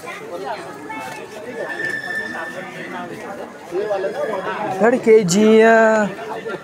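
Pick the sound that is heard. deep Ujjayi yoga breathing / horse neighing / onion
horse neighing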